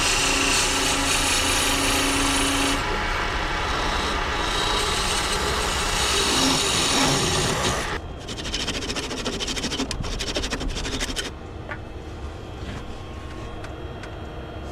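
A parting tool cuts laburnum wood spinning on a lathe, giving a loud, steady scraping whine that shifts to a rougher, chattering cut partway through before easing off.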